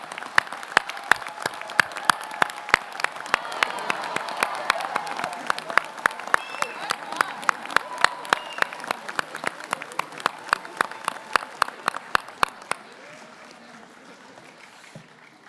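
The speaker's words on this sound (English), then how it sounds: "Everyone, please join me in a round of applause." Rhythmic, unified clapping from a crowd at a Massey University Māori graduation ceremony in Manawatū, a steady beat of sharp claps over crowd murmur that gradually thins and stops near the end.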